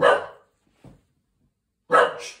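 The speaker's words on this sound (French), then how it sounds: "en faisant le troll, je fais aboyer le chien" A dog barks nearby, two loud sharp barks about two seconds apart with a small yelp in between and silence around them.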